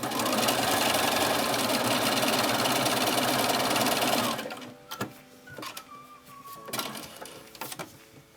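A sewing machine stitches a straight-stitch hem on a T-shirt, a loud, fast, even mechanical chatter running steadily for about four seconds before stopping, followed by faint handling clicks and rustles.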